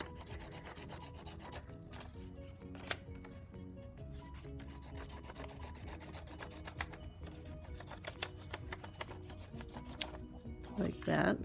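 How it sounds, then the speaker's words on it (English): Side of a crayon rubbed back and forth over paper laid on a textured surface to pick up a texture rubbing, a steady close scratchy rasp running continuously without speech. "I could take this and do a crayon rubbing with the side of my crayon to get some more texture"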